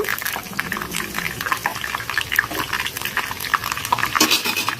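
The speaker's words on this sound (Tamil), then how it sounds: "கொஞ்சம் எண்ணெய் காஞ்சோடனே நான் கருவேப்பில் போட்டுக்கிட்டேன்" Curry leaves frying in hot oil for homemade hair oil, with a steady close crackle and sizzle punctuated by small pops and an occasional clink of a utensil.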